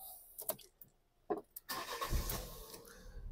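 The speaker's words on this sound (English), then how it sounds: "I'm going to start the car first." A Fiat 500 with a camshaft sensor fault cranks and fires up after brief clicks and knocks, the engine catching with a burst of noise and settling into a steady near running sound.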